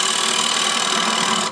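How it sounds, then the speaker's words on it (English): A wood lathe turns a bowl while the right wing of a scraper takes the wall down, giving a steady, close whirring hum with a continuous scraping hiss that runs unbroken before cutting off abruptly at the end. "I'm going to use the right wing as the scraper, just to bring this down a little bit more"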